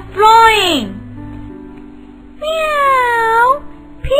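A voice imitates a cat's meow twice in a storytelling narration, each a drawn-out, bending cry with a quiet pause between them.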